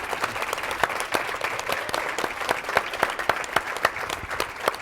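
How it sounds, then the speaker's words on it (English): An audience applauds in a room, a sustained round of many clapping hands with sharp individual claps standing out, fairly close and steady for the whole stretch, no talking over it. "Give them a round of applause."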